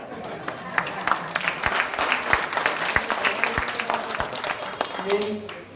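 An audience claps at a Srivaishnava community gathering in Hanumakonda district, with sharp individual claps standing out over a busy murmur of voices.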